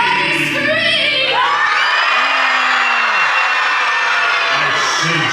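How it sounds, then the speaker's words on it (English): A crowd at a Halloween party aboard the Disney Fantasy cruise ship screams and cheers loudly and continuously, with children's shrieks and whoops blending into a sustained roar. "Everybody scream!"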